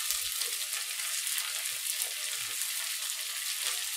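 Diced onions and zucchini frying in a pan give a dense, even, hissing sizzle that holds steady throughout, close and unbroken, with no talk over it.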